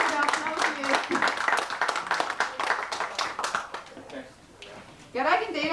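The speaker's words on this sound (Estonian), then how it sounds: "Aitäh teile suure aplausi eest" Audience applause at a village day celebration in Karjaküla, a dense patter of many clapping hands that thins and fades before a short fresh burst at the end.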